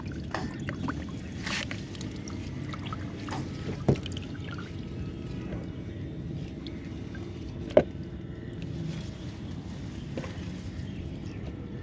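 Water runs and trickles steadily over the uprooted roots of a Dieffenbachia plant as they are rinsed clean by hand, with a couple of brief splashes standing out against the constant flow.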